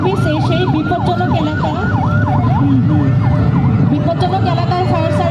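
A fire service vehicle's siren wails in rapid repeating rising-and-falling sweeps as it arrives at an earthquake and fire rescue drill, loud and close over engine rumble and crowd noise.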